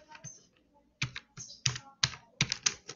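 Keystrokes on a computer keyboard while typing words, quiet clicks in short bursts with brief pauses between, close and alone without talk.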